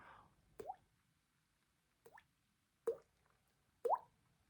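A person's mouth imitates water droplets, making four short, distinct plopping drips spaced roughly a second apart, close and quiet against near silence.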